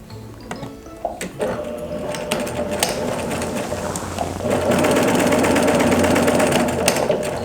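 A sewing machine stitches the corners of a quilt in close, loud bursts, starting with short stop-and-go runs, then settling into a steady continuous whir.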